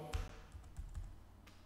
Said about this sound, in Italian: per studiare lo strato limite, possiamo digitare VPLO